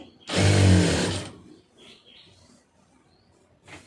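A sewing machine stitches a cigarette pant in one close, loud burst of about a second of rapid whirring, followed by near silence with faint handling sounds.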